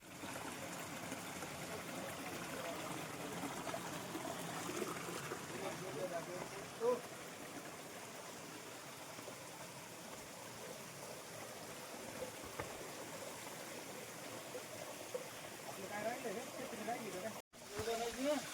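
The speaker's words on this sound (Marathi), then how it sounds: "वरतून वॉटरफॉलचं पाणी येते आणि इथं खाली थोडस थोडं नाही भरपूर पाणी साठलेलं इथं" Waterfall water pouring down from above into a large pool below, a steady rushing roar heard from nearby for the whole stretch, with a brief dropout near the end.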